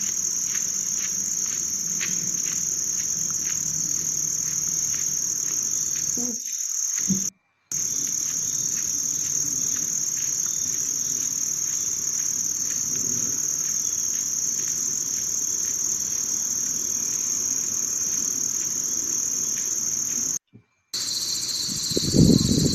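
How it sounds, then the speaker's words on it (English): Crickets chirp in a steady, high-pitched drone throughout a field, with a dense layered trill that briefly cuts out twice before resuming. "You can hear the cicadas and the grasshoppers,"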